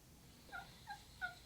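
A wild turkey hen calls three times in quick succession, short faint yelps spaced evenly, distant and alone in a quiet outdoor setting.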